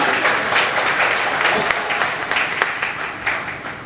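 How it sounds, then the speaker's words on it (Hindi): A crowd at a Hindi poetry recital breaks into strong, dense applause, a continuous wash of many clapping hands that holds steady and eases slightly toward the end. "एक बार अपने देश के लिए जोरदार तालियां बजाइए।"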